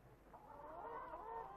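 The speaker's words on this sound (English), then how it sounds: "Perhaps 150 broody hens sitting on the duck and goose eggs at the height of the season." Broody hens in a gallery of nest boxes at a bird sanctuary, sitting on duck and goose eggs, give a soft, faint run of low clucks in a brief stretch with no talk.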